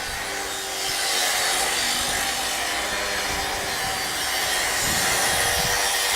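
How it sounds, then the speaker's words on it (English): Breezeway construction work carries on steadily: hand sawing and rasping on wood, with a broad scraping hiss and a few deeper thuds, heard without any voices. "as you can hear them building in construction"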